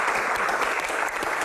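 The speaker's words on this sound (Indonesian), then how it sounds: "tepuk tangan dong" A studio audience at an Indonesian game-show-style taping applauds steadily, dense clapping filling the room at close range with no pause.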